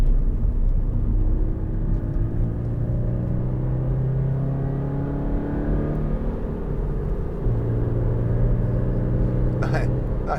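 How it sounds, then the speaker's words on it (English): A 2015 Toyota GT86 2.0 engine runs steadily with a low, droning rumble and shifting pitch, close and continuous throughout. "Nice engine sound."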